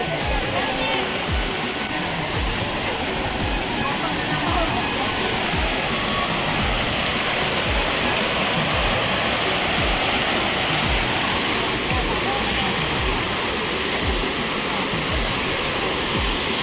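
A small waterfall at the Nrusinghanath temple in Odisha roars in a continuous, loud, close rush of falling water, with low thumping gusts underneath and no clear speech.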